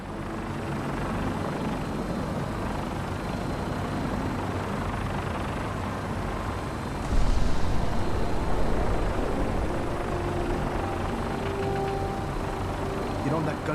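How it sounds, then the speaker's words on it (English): Vertibird gunship engine from Fallout New Vegas, a steady rotor-like drone and rumble running throughout, swelling louder partway through, with voices talking over it. "Now, we have a vertibird on standby, fully armed, and ready to depart."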